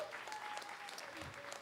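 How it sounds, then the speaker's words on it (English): A live audience at a Sunday Love Feast gives a short round of applause, the clapping steady and moderately distant, with voices mixed in. "A round of applause for Prabhu."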